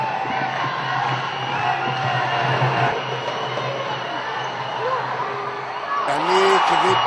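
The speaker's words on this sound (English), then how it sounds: "the crowd is cheering again" Crowd cheering at a basketball tournament, a steady wash of many voices with whoops and shouts that swells louder near the end, heard at a moderate distance.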